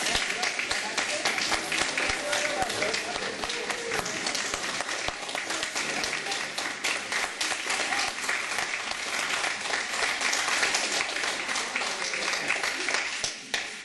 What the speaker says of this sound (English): So if the family members and friends would please stand, I want to give you guys a round of applause.